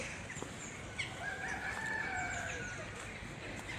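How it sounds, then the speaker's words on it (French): A rooster crows nearby in a long drawn-out call, with chickens clucking and scattered bird sounds around it over outdoor background noise. "Ah, il y a des poulets."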